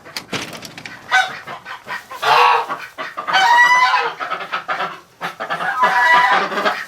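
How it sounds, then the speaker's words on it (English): Geese and ducks, Muscovies among them, call loudly and continuously inside a straw-bedded winter barn, a dense chorus of honks and clucks rising in overlapping bursts. "there's a couple geese in there actually"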